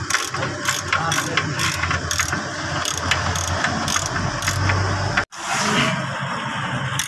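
Ratchet wrench loosening a 22 mm suspension bolt on a Mitsubishi L300, with rapid, loud, close clicking in repeated bursts, a brief break near the end, then more ratcheting.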